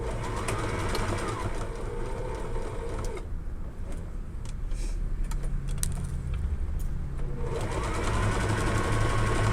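A sewing machine stitches the side of a fabric makeup bag in rapid, steady runs, pausing briefly in the middle before resuming, heard up close with no talking.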